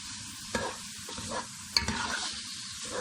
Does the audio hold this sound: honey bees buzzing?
no